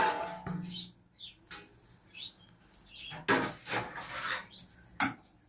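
A lid goes onto a pot of polao with a few close metallic clanks and clatters spread apart, while faint bird chirps carry on in the background.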